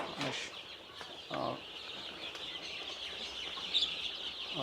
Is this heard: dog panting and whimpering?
no